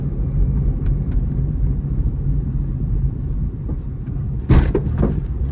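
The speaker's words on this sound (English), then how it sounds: "there's a bit of bump stop at the front suspension" Steady low road and engine rumble inside a moving Proton Saga, broken near the end by a sharp jolt as the wheels hit a bump and the front suspension reaches its bump stop.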